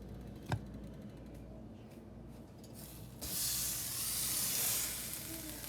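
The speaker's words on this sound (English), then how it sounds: "Let me put some butter in this pan." Butter hits a hot pan with a sharp click, then sizzles, swelling into a loud, steady frying hiss.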